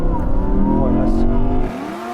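An Audi R8 Spyder launches in a drag race with its engine bogging down, a loud close roar of revs that rise and fall before cutting off sharply, with tyre noise and a voice underneath.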